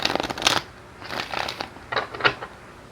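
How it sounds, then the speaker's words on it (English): Tarot cards shuffled by hand during a career reading, three separate bursts of crisp riffling and flicking with short pauses between them, moderately close and with no talking. "As I am shuffling, as I am doing this reading, there is some kind of gamble."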